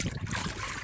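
Water rinses soil off freshly harvested maincrop potatoes grown in a 100-litre pot of multipurpose compost, a brief, steady splashing wash heard up close.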